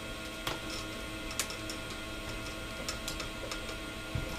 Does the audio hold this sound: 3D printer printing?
yes